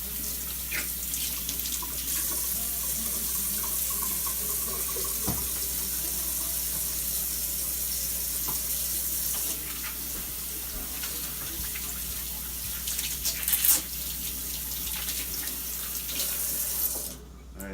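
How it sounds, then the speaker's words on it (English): A kitchen tap runs in a steady, close stream into the sink while hands are washed, a continuous hiss with small splashes and shifts near the end. "here I'm just gonna wash my hands"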